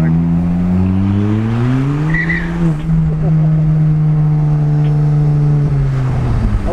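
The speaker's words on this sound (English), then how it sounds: "love that second roll in where it squeals the tires like that" Rally Ford Fiesta ST with a race exhaust and turbo, engine revving loud and close with a sustained droning note, tires squealing sharply around the middle as boost hits, then the engine pulls on steadily.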